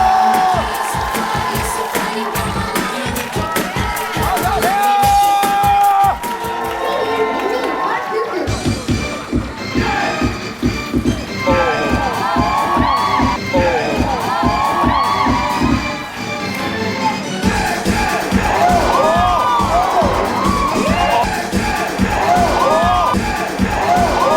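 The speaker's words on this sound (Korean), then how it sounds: "큰 박수로 맞이하겠습니다" Studio audience at a Korean talent show cheering and shouting as a stunt cheerleading team takes the stage, a sustained loud crowd roar with whoops, thumping music underneath and a host speaking over it.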